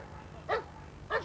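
A police dog barks twice in quick succession during a gunshot training exercise, sharp close barks about half a second apart over a low background rumble.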